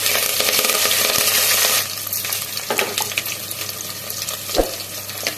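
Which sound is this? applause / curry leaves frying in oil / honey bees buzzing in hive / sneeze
curry leaves frying in oil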